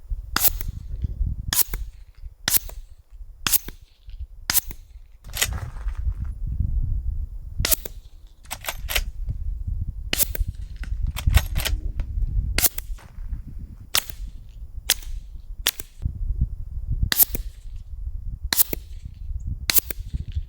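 Gunshots from a series of different guns, heard from downrange, as a string of sharp, separate cracks spaced roughly a second apart over a low rumbling background, with no talking.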